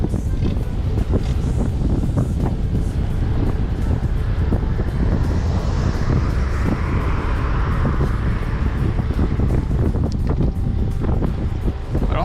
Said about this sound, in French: Parce que là il y a assez de vent